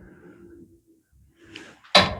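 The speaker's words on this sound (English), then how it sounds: "And close the door." The door on a maple syrup evaporator arch shuts with a single sharp, loud clack near the end, after quiet low rumbling from the firebox.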